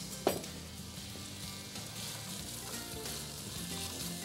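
Onions fry in a pan for a classic French onion soup with a soft, steady sizzle, opening with a brief clatter and then a quiet, continuous hiss.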